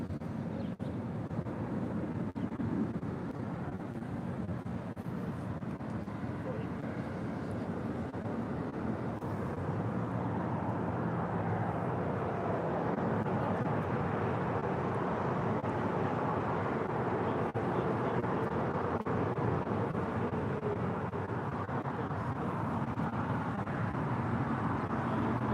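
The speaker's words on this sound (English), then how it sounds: "Lufthansa flight 450 now touching down here on the south side. The A340-300 from Frankfurt." A Lufthansa Airbus A340-300 from Frankfurt touches down on the south side at LAX, heard as a steady, distant broadband roar of engines and rushing air that holds at a constant level throughout.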